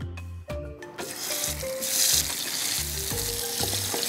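Chicken pieces frying in hot oil for a Moroccan chicken dish, a steady loud sizzle with clinking stirs and faint utensil taps throughout, no talking.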